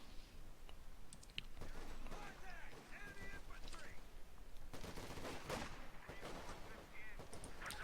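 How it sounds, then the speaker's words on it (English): Bursts of submachine-gun fire from WWII-era grease guns ring out in a strategy video game, with rapid clattering shots and mechanical clicks scattered through the clip over busy battle ambience and a commentator's voice. "Grease guns going in on the Ostrupen."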